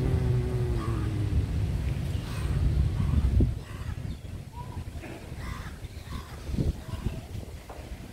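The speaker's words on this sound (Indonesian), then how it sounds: "Aduh, ya burung gagak." Crows caw outdoors by a heritage house in Penang, a few faint scattered calls over a steady low rumble of traffic and wind.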